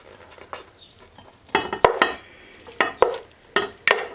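Spoonfuls of vegetables drop into a greased frittata pan and hiss with each transfer. The sizzles come in short bursts and scraping clinks at an irregular rhythm, close and fairly loud, with no voices.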